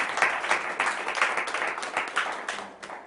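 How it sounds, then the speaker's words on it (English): A show-and-tell audience claps steadily, a dense patter of many hands filling the space at moderate loudness with no one talking over it. "You guys are so awesome at clapping."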